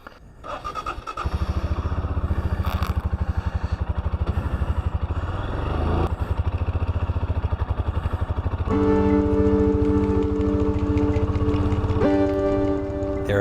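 A solo touring motorcycle being ridden across the Nullarbor in Australia, its engine starting up and then running loud and close with a steady, pulsing drone that rises in pitch as it accelerates.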